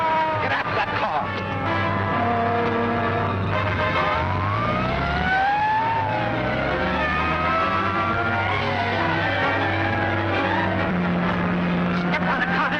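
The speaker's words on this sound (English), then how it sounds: "You have to keep that siren going, let them know we're after them?" A police car siren wails during a car chase in an old film serial, its tone sweeping up and down over a steady, rumbling engine drone, with voices talking over the noise.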